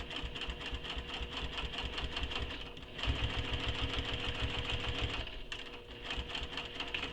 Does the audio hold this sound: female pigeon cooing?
no